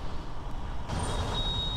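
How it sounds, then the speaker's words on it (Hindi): Heavy highway traffic with trucks, heard from a motorcycle on a long ride from Jabalpur to Chennai: a steady, loud roar of passing vehicles with a truck's air brake hiss and a faint tonal whine joining partway through. "कहीं हैवी ट्रैफिक है और कहीं ऐसा माइल्ड सा है"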